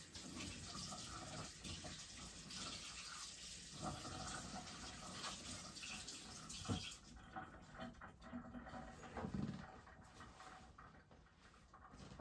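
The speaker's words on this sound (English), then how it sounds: "Washing my hands." Running tap water splashes over hands at a sink while baking sourdough bread, a steady faint gush that thins out partway through with a few small knocks and splashes.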